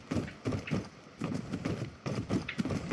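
Horse hooves clip-clopping in Skyrim, a rhythmic run of close, loud strikes in repeated bursts of galloping steps, with no talk.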